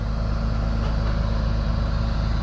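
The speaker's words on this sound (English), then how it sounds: "tow truck is here" Tow truck engine running steady and close, a loud continuous low diesel-like drone with no change in pace, arriving to collect a broken-down Ford hotshot truck.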